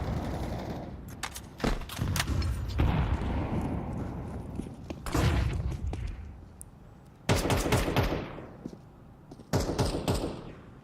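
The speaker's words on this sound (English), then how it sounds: "They're shooting each other in spawn." Bursts of rifle fire in the Counter-Strike video game as players shoot each other in spawn; several separate clusters of rapid shots spread over the stretch, sharp and fairly close, with quieter gaps between volleys.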